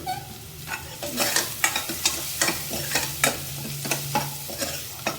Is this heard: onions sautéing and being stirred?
yes